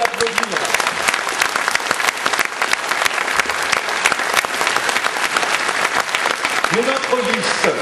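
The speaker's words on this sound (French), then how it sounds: "Je vous demande de l'applaudir" Loud, dense applause from a crowd at a political meeting, continuous throughout with brief voices rising near the start and end.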